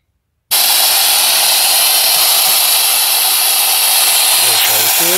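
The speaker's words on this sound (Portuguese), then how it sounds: "testando a turbina de Tesla com dois discos, vamos medir o RPM e o tempo que funciona com um tanque de 20 litros" A homemade two-disc Tesla turbine driven from a 20-liter tank spins up abruptly into a loud, steady high-pitched whine with rushing air, holding constant close to the microphone for several seconds.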